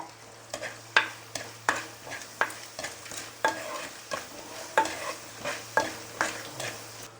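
Onions sautéing in a pan for a pepper and roasted-coconut fish curry, with a steady low sizzle broken by regular stirring scrapes roughly every half second, close and moderately loud.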